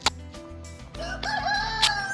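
Backyard chickens cluck close by, and a rooster gives a loud crow partway through amid some rustling and short clucks.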